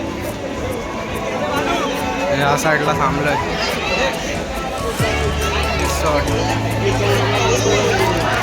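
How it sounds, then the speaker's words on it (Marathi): Busy crowd babble at the entrance of the Superstar water park resort in Virar, a steady hubbub of many overlapping voices, with one person speaking close by over the noise. "गर्दी खूप आहे"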